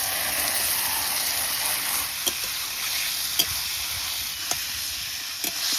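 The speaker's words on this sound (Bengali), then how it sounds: "এবার মেখে রাখা মাংস ঢেলে দিচ্ছি।" Marinated meat hits a hot pan and sizzles loudly in a continuous bright hiss, with a few faint utensil clicks as it is stirred, close and steady throughout, no talk.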